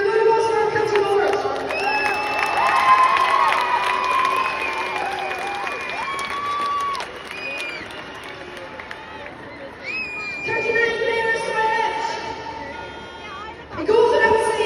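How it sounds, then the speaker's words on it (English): A crowd at the presentation of the Galway team as All-Ireland senior camogie champions cheers and applauds continuously, loud and broadband, with shouts and whistles rising above the clapping and a fresh burst near the end. "Give a good applause for our county board."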